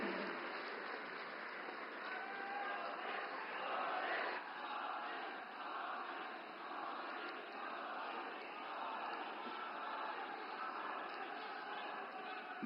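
A crowd at a public event welcomes Prime Minister Narendra Modi with sustained, distant applause that holds steady for the whole stretch, with a faint voice or cheer mixed in.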